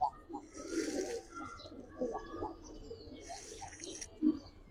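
Pigeons in a small cage give a few low coos, spaced out and close by, under intermittent talking.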